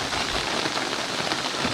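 Heavy morning storm rain falls on flooded rice fields in a village, a dense, even hiss with no pauses.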